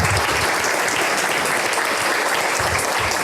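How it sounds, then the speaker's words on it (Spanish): Steady applause from an audience honoring a doctor at an anniversary celebration, dense and continuous throughout, close and loud with no talk over it. "Pido que le den un fuerte aplauso al doctor Ángel Polibio Córdoba."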